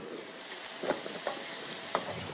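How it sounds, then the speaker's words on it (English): Two finely diced shallots hit a pan for saffron rice, producing a soft, steady sizzle with a few light stirring clicks, fairly quiet and without speech. "In go the shallots."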